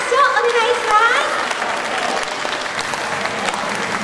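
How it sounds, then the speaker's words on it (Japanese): An idol live show audience claps for the group members, a lively crowd applause with cheering voices and whoops rising over it early, then settling into steady clapping. "ブルーレッドのメンバーにもう一度大きな拍手をお願いします"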